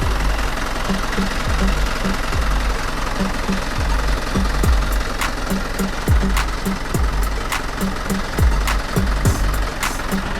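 A 2013 Hino Mega 500 truck with a 175 hp diesel engine idles steadily, a low, even knocking rumble that runs unbroken and fairly loud throughout, with no talk over it.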